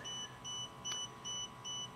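A Creality Falcon2 Pro 60W laser cutter beeps a warning because its lid is open: five short, even electronic beeps in a steady rhythm over a low hum, with one brief click between them.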